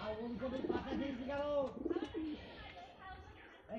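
Madras pigeons in a loft give soft, low, rolling coos in a few repeated bursts, faint and close, with people talking quietly over them.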